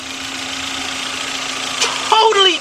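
A Volkswagen Beetle engine runs after a head gasket and timing belt replacement. It holds a steady, even idle hum close by, and a voice speaks briefly near the end.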